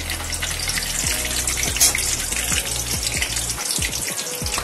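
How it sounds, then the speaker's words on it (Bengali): Bay leaves drop into hot oil for tempering and set off a loud, dense, crackling sizzle, with a rhythmic low thudding underneath, close up and with no talking. "তেজপাতা ফোড়ন দিয়ে দিলাম"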